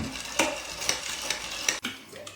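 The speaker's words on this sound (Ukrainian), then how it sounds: "Добре перемішаємо." A utensil stirs a tincture of pine nuts and alcohol inside a glass jar, scraping and clinking in a regular rhythm of about four strokes, close and moderately loud.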